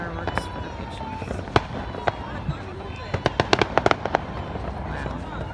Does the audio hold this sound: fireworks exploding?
yes